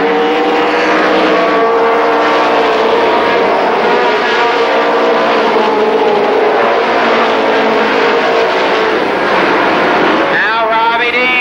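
Race cars roar around Columbus Motor Speedway in 1994, engines blaring loud and continuous with overlapping revving tones, as a voice talks over the din.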